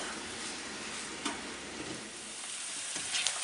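Onions and celery cook over medium heat in melted butter, a soft, steady sizzle with a few faint stirring scrapes, fairly quiet and unbroken by speech.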